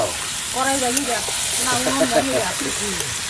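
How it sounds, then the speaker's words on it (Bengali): Potatoes frying in a hot pan give off a steady hiss and sizzle with light stirring, heard close under a person talking throughout. "এবার আমি আলুটাও দিয়ে দেবো আলু ভেজে না"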